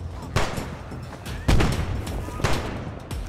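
Enemy gunfire in Fallout 4, a few loud separate shots and booms at irregular intervals over low ambient noise, close and punchy.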